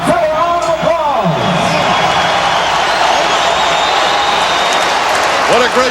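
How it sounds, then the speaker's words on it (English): A boxing arena crowd at a heavyweight fight between Evander Holyfield and George Foreman applauds and cheers before the final round, a loud dense roar of clapping and whoops filling the whole stretch, with crowd voices mixed in. "Let's have a round of applause."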